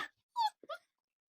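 A dog whines in a few short, high, tonal bursts with a brief yip between them, close by and otherwise quiet.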